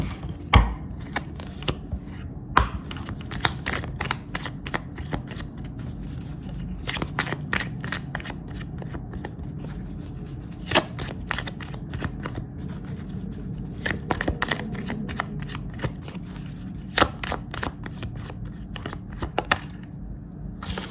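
Tarot cards are shuffled and handled close up, giving repeated crisp riffles and slaps spread across a long stretch, over a low room hum with no speech.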